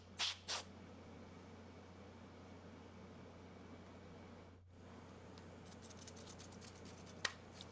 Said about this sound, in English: blow it out with compressed air